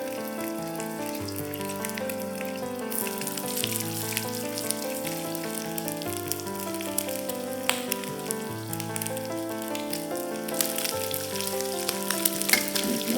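Pork ribs frying in golden brown caramelized sugar in a pan, a steady close sizzle with crackling pops, heard alone under music.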